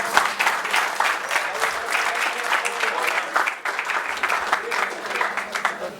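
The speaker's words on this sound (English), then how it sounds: "A huge round of applause, ladies and gentlemen." Steady audience applause fills the room after a speech to engineering students and teachers, a dense continuous clatter of many hands with a few louder claps standing out, no voices over it.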